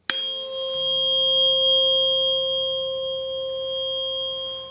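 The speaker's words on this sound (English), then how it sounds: "you just tap it, and you always tap a fork right on the narrow side of the tines" A solfeggio tuning fork struck on a sound puck rings out with a sharp tap, then a steady, pure sustained tone with clear overtones that holds evenly for several seconds, close and alone.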